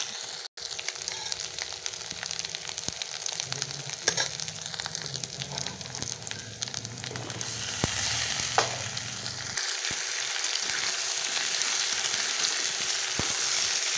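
A spice paste of ground cumin, ginger and garlic sautés in a pan with a continuous close hiss. Scattered scraping stirs sit on top, and the sizzle swells louder in the second half.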